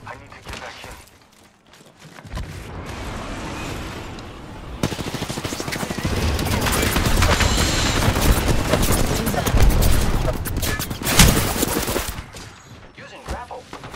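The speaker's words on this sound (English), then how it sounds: "The enemies are shooting at me" Bursts of rapid automatic gunfire from enemies in the shooter game Apex Legends, loud and dense, running for about ten seconds with heavier volleys in the middle, opening on quieter game sounds and tapering off at the end.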